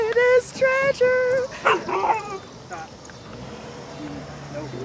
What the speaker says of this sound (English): Hear my dogs again.